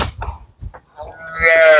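At a cattle sale, a heifer gives a loud, close moo that rises and holds near the end, preceded by scattered low shuffling sounds.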